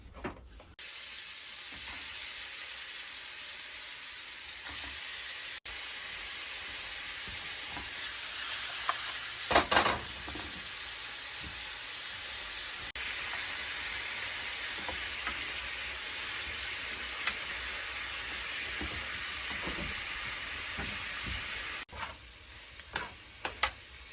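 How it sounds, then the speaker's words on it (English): Oxtails searing in a hot pan, a loud, steady, close sizzle running continuously with a few sharp clinks and stirring knocks along the way. "take these oxtails over to the pan and pan sear them"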